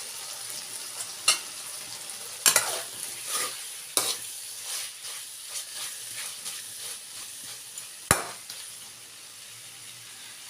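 Cauliflower stir-frying in a pan over a low gas flame gives a steady soft sizzle with occasional sharp scrapes and taps of a spatula, close and continuous, with no voices.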